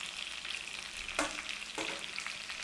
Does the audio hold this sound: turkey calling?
no